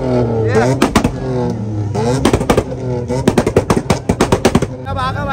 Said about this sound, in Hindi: और ये वाली आ रही है हमारे आका भाई की है, मैं मजा आ रहा है अभी इसका पटाखे